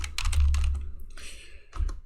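Typing on a new Spanish-layout silent keyboard, quick clusters of soft muted key taps close by, with a brief pause between bursts and low background hum.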